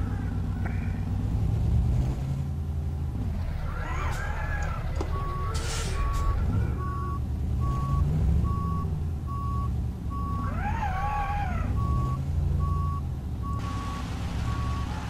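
A Zil 131 truck reverses with a steady, evenly pulsing reversing beeper over its low rumbling engine, close and continuous throughout, with no one speaking.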